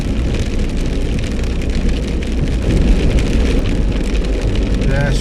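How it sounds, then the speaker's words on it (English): Steady rain falls and patters on surfaces outdoors in grey, wet weather near Argostoli, a dense continuous hiss with no pauses, fairly loud and close. "it's still raining and grey"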